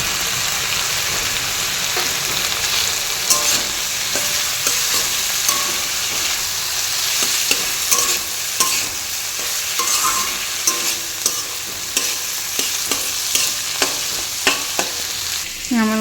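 Food sizzling and frying in a pan with turmeric added, stirred steadily so a spoon scrapes and clinks in irregular bursts over a constant close hiss.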